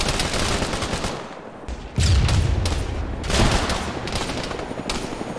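Gunfire and a grenade blast in the Arma military video game: bursts of rapid shots through the first two seconds, then a loud booming hit followed by continued rattling fire, close and dense.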